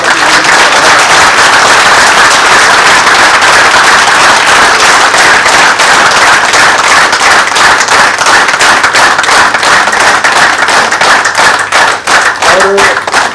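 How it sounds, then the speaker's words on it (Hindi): Loud, sustained applause from a crowd, with dense clapping continuing steadily throughout and only a brief dip near the end. "हम सब लोग एक बार ज़ोरदार ताली बजाएं"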